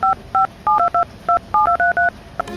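A phone being dialed gives a quick string of about a dozen short DTMF keypad tones in an uneven rhythm, loud and close, ending with a brief click.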